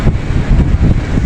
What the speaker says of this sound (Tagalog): Lakas talaga ng hangin.